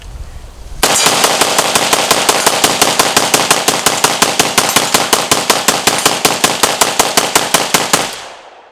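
A PSA AK-E rifle fires a long rapid string of loud, sharp shots at a range during accuracy testing, evenly spaced reports running for several seconds before stopping abruptly.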